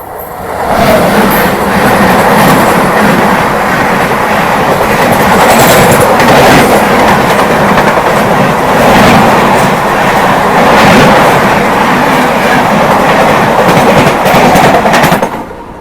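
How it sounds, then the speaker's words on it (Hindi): The Howrah–CSMT Gitanjali Express passes a railway crossing with a loud, sustained rumble and steady clickety-clack of wheels over the rails. The sound holds close and full throughout, with no voices. "अब क्रॉसिंग की बारी है हावड़ा CSMT गीतांजलि एक्सप्रेस की।"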